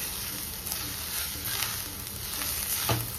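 Chicken frying in a pan with homemade Goan xacuti masala, a steady close sizzle running throughout with a brief louder spatter near the end.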